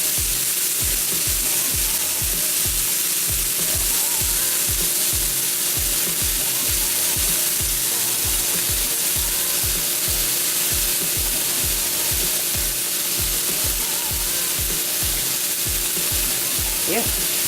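Chicken frying in a pan while pasta cooks for chicken and shrimp Alfredo, giving a steady close sizzle with crackling pops that runs unbroken throughout, with no talking.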